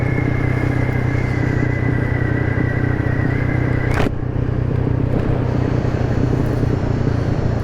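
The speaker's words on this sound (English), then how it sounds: "The bike is running solid." A Maddog 150cc GY6 scooter engine runs steadily while climbing Pikes Peak, a continuous close drone with wind rush and a steady whine that cuts off partway through, with no talk.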